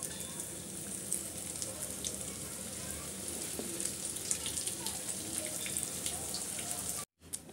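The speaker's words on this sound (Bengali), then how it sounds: "ভেজে নিচ্ছি" Snacks frying in oil in a pan for a quick, low-cost afternoon treat: a steady, dense crackling sizzle runs continuously at close range, then cuts out abruptly near the end.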